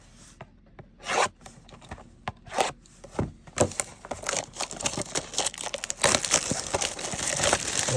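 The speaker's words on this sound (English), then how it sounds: "Always like that crinkling of the cellophane" A cellophane wrapper crinkles and tears as it is pulled off a Topps Update Series Blaster Box. Close, with scattered rustles that build into a denser, continuous crackle.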